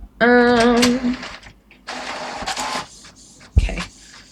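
Printer running in bursts, with a whirring motor tone, a pause, then mechanical rattling and feeding noises, ending in a sharp thunk, loud and close.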